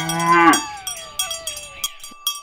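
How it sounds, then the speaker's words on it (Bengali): A cartoon cow in a Bengali village story gives a single drawn-out moo, loud and close, followed by a few short bell-like clinks and brief trailing sounds. "সেই গ্রামে বৃন্দা নামে এক গরু তার বাছুর ডুগ্গুর সাথে থাকত।"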